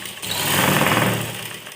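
A sewing machine runs a steady stitch along a blouse neck strip, a continuous close whir that swells in the middle and holds for under two seconds with no voices.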